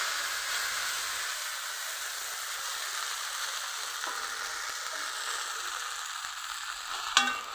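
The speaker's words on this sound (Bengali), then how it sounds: "তো তেল হালকা গরম হয়ে গেছে, এখন দিয়ে দিব ধনে পাতা।" Fresh coriander leaves fry in lightly heated oil with a steady, even sizzling hiss that holds throughout, close and moderately loud, ending in a sharp clink of a utensil against the pan.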